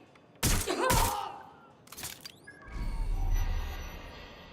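Gunfire bursts from a suspect shooting in Watch Dogs: Legion, two loud close shots followed by a sharper crack and then a sustained rumbling volley with ringing debris, no voices.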